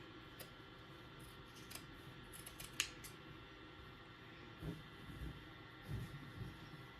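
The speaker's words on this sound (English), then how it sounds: "trimming half of that seam allowance down because we don't want that much bulk in that upper area" Scissors make quiet, close snips trimming the fabric seam allowance on a tote bag, several small clicks spaced irregularly over faint background hum.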